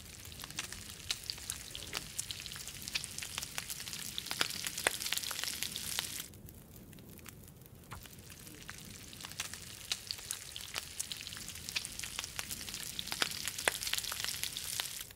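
Steady sizzling of venison frying in a pan in the video game The Long Dark, crackling and popping throughout, dipping briefly in the middle before resuming at an even level.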